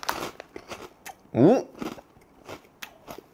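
One short, crisp crunch of a bite into a crispy potato chip snack bought at a Taiwanese convenience store, close to the microphone, with a brief voiced exclamation and soft mouth sounds around it.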